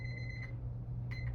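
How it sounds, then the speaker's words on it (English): A timer alarm gives two short pairs of faint electronic beeps over a steady low hum in a quiet room, with no talk. "I'll try to make my timer not so loud."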